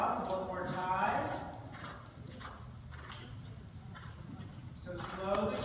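A horse canters during a riding lesson, its rhythmic hoofbeats faint and steady beneath an instructor's voice speaking throughout.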